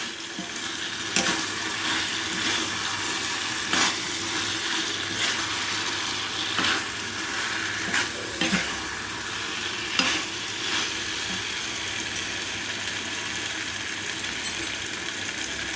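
Fried cauliflower and potatoes are stirred in Thai chilli sauce in a pan, with a steady sizzle and repeated scraping strokes of the spoon at irregular intervals.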